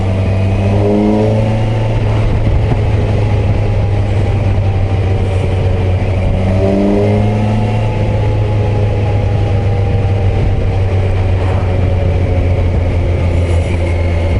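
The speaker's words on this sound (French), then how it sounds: "il faut accélérer pour passer les vitesses avec le shifter" A 2021 Kawasaki Versys 1000 SE Grand Tourer motorcycle engine pulls steadily and loud throughout, its pitch climbing in repeated sweeps as quickshifter gear changes break the acceleration, with constant wind and road roar.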